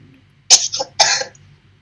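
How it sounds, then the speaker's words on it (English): Two sharp, close coughs in quick succession, separated by a short pause, with near silence around them. "Sorry, I'm coughing."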